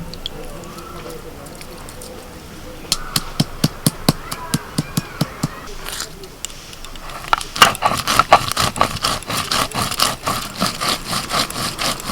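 Dried and green chillies, ginger, two kinds of mustard seed and a little cumin are ground into paste, heard as a quick series of sharp rhythmic pounding and scraping strokes that grow denser and louder, with a voice speaking faintly.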